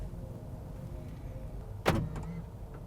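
Motorized in-car display screen on a JY AIR tilting toward the driver, a single short whirring motor burst with a soft mechanical clunk over quiet cabin hum.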